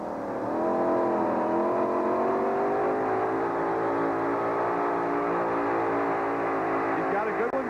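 A pulling tractor, the Irish Challenger, roars down a two-wheel-drive pull track, a sustained engine drone with rising harmonics that builds and holds, heard under an announcer's commentary.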